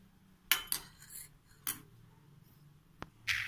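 A knife slicing bread into rectangular pieces for an eggless bread omelette, giving a few short, crisp cuts and scrapes spaced apart, close and fairly quiet, with a sharper clink near the end.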